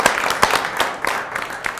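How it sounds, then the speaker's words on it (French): A studio audience applauds on a French TV show, a dense burst of clapping that carries on evenly through the whole moment, close and fairly loud. "Je crois qu'on peut vous applaudir parce que ça n'a pas été facile"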